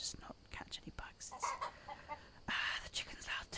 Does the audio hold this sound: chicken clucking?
yes